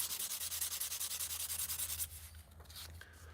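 A briar tobacco pipe is hand sanded through progressively finer grits in a pipe maker's workshop. Brisk, rhythmic rubbing strokes run steadily for about two seconds and then stop, leaving a few quieter scrapes.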